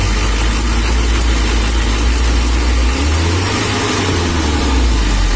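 A Mitsubishi L300 with its factory-sealed fuel pump being adjusted runs with a steady deep engine drone and a dull rhythmic knocking, close and constant, the pitch dipping briefly midway as the revs change.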